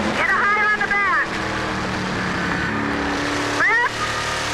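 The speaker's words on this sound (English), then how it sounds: "This is stock car racing" Stock car V8 engines roar loud and close in a race, with a steady high drone, sharp revving sweeps rising and falling early on and again near the end, and voices talking over the engines.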